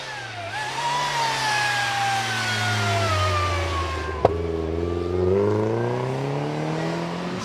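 A Porsche 3 litre Carrera accelerates away from the line at the Prescott hillclimb, its engine note climbing steadily through the gears with a brief sharp click midway, loud and close, no talk.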